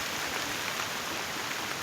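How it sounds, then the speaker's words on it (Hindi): Heavy rain pours down in a rural village, a dense, steady hiss that stays loud and even throughout, with no voices or other distinct sounds. "उस साइड तो भयंकर ही बारिश लगी हुई है"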